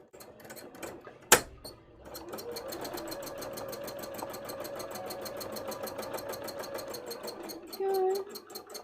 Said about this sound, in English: we go around the outside with some machine embroidery